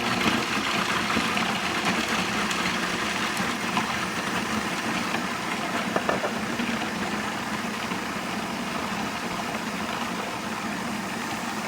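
A blender whirs continuously while blending vegan pesto as olive oil is added, giving an even, unbroken motor drone throughout.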